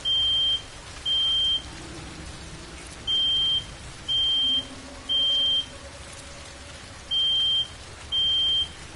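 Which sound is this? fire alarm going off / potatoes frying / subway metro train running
fire alarm going off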